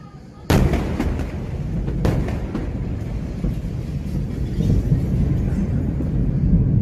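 Massive explosion in Beirut with a strong shock wave: a sudden loud broadband blast hits, followed by a second burst about a second and a half later, then a sustained heavy roaring rumble that carries on loudly to the end.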